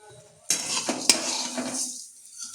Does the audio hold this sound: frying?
yes